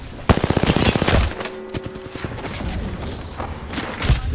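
Video game gunfire rattles out in a rapid automatic burst, followed by scattered single shots and mechanical clicks, loud and close.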